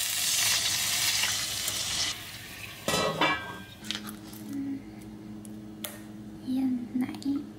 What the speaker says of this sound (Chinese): 煎一下。